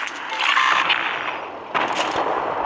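Tank cannon fire in the video game World of Tanks, heard from a Nashorn tank destroyer: two loud, close booming blasts, each with a broad rushing tail, one at the start and another about a second later.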